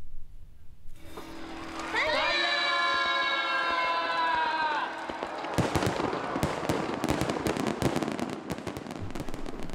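Fireworks at the Fukuroi Enshu fireworks festival, with whistling rockets gliding upward, then a dense run of crackling bursts and booms heard from a distance over steady crowd noise.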